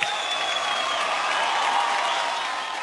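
Crowd applause at a Bollywood music awards show, a dense, steady roar of clapping and cheering from a large audience, heard briefly and fairly loud with no speech over it.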